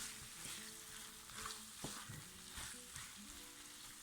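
Potatoes fry in a pot as curry powder and paprika are stirred in: a quiet, continuous sizzle with soft scraping and clattering stirs.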